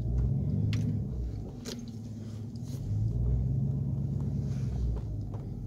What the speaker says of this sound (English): Pull the truck over here so I can use it like a little work table.